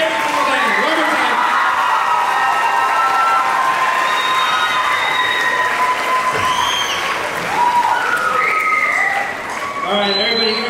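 A school spring concert audience at a middle school band performance applauds and cheers for the bands, with dense, continuous clapping and scattered shouts filling the hall, loud and close throughout.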